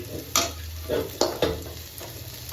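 Food sizzles steadily in a hot pan while a utensil stirs it in several brisk scrapes, close and moderately loud, with no one talking.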